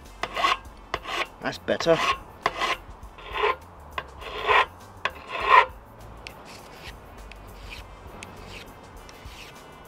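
Aluminium stock being filed by hand for a DIY camera slider dolly: a close series of harsh rasping strokes in uneven bursts, fading to quiet near the end, with a brief spoken remark.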